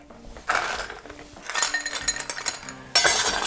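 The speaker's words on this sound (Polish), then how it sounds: "Schładzam mój kieliszek koktajlowy." Ice cubes tumble into a chilled cocktail glass, producing bright glassy clinks in a few bursts, with a loud cluster near the start and another at the end.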